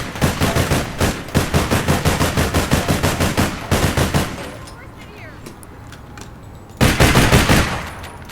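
An SR-15 rifle in the video game APB Reloaded fires a rapid, evenly spaced automatic burst for several seconds, falls quiet briefly, then lets off a second short burst.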